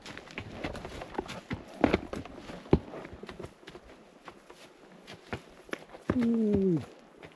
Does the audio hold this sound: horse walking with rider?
yes